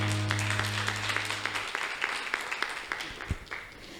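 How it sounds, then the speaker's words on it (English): A staff appreciation event audience claps for colleagues, scattered, moderately faint applause of individual claps that starts after a tone fades and then thins out. "Let's give all our colleagues a big round of applause."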